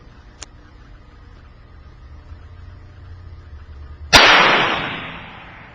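A single firearm shot fired at a target outdoors cracks out sharply and loudly after several seconds of quiet ambience, then its echo decays over more than a second.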